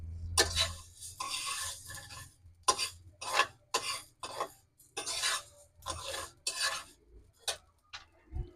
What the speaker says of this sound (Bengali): এখন ছোট মশলাগুলা টেলে নিচ্ছি